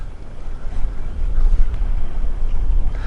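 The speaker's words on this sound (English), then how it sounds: "It's quite windy today." Steady wind buffets the microphone with a low, rumbling roar, continuous and loud, with faint water lapping underneath.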